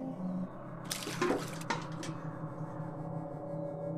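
Water is poured onto a tulsi plant, a brief splashing gush lasting about a second over a steady low household hum, then fading back to quiet background.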